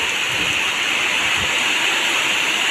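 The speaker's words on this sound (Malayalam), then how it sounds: "ഇതൊക്കെയാണ് മഴ എന്നൊക്കെ പറഞ്ഞാൽ ഇതൊക്കെയാണ് മഴ" Heavy rain pours down in a steady, loud roar, an unbroken wash of falling water with no pauses.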